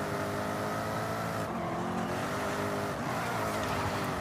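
A Jaguar XKR-S GT drifting in Forza Horizon 5 gives a loud, sustained engine drone with shifting revs and brief tire squeal as it slides, close and steady without talk.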